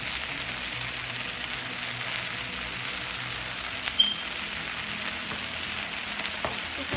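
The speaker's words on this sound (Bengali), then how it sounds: "এখন আমি এখানে দিয়ে দিচ্ছি কয়েকটা তাজা কাঁচামরিচ" Fresh green chillies fry with sliced okra in a little oil, producing a steady, moderate sizzling hiss at close range with one small clack near the middle and no voices.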